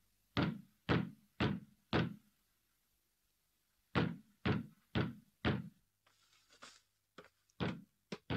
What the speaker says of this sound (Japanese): 誰やら表で戸を叩く音が聞こえた